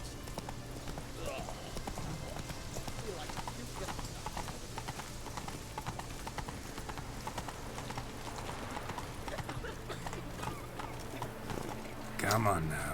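Horse hooves clip-clop at a steady pace in The Witcher 3 video game, a continuous rhythmic gait under dense game ambience, with a louder burst of sound near the end.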